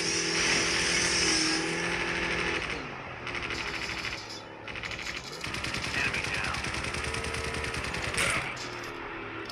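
A vehicle in a battle royale video game drives with a steady buzzing engine drone, loud and continuous, with gunfire-like rattling and a brief dip partway through.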